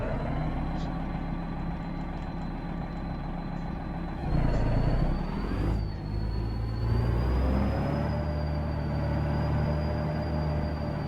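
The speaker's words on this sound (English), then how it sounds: "I hear the same turbo noise." A custom Peterbilt truck in American Truck Simulator drones steadily with a thin, high turbo whistle riding over the engine, the pitch dipping and rising as the revs shift.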